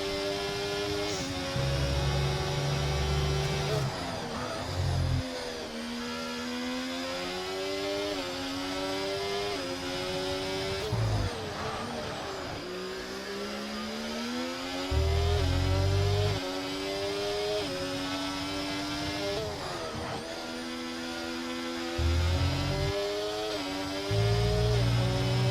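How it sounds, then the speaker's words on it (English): Ferrari engine in the Codemasters F1 racing game at Spain, a sustained high-pitched racing wail with rising gear sweeps and shifts, loud and steady throughout, no voices. "Codemasters have made the Ferrari engine just ultra realistic"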